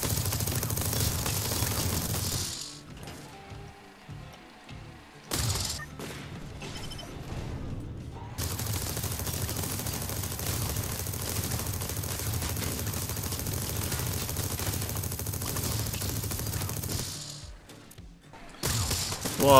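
Sustained automatic weapon fire from vehicle-mounted guns in the TerraTech building game, loud dense bursts filling most of the stretch with a couple of brief pauses and a dip near the end.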